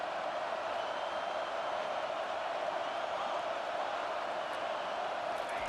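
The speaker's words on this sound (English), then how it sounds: "Decibels rising as the crowd gets behind this defense on third down." A college football stadium crowd roars steadily and loudly during a third-down defensive stand, a dense continuous wash of noise with no breaks.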